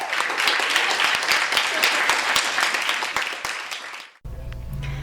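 An audience at a Skylight Books author reading applauds in a dense, steady wave of many hands clapping for about four seconds, then it cuts off abruptly into a quieter room tone.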